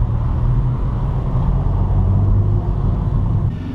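A manual transmission car coasting in second gear with the clutch out makes a loud, steady low engine and road rumble that stays even, then eases slightly at the end.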